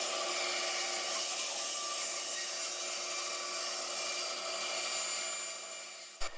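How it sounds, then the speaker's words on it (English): A bandsaw cuts steadily through a wooden wand blank, a loud continuous rasping whine that holds for several seconds before tapering off and ending with a sharp knock. "I did a little more shaping on the bandsaw just to clean up the edges."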